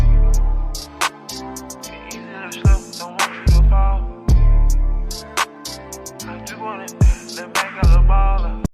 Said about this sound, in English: his hi-hat patterns would always sound something like this.